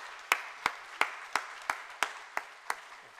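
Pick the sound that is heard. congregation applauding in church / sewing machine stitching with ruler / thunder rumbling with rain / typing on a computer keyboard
congregation applauding in church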